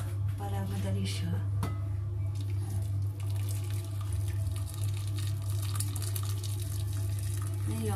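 Tap water pours in a continuous stream into a pot while vegan burger patties are being made, with a steady low hum under the splashing and no talk.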